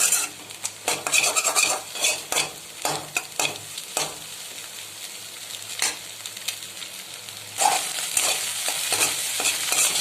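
Egg sautéed in a pan for wheat egg noodles, stirred with a utensil that scrapes and clinks against the metal in quick, busy strokes over a sizzling fry, close and loud.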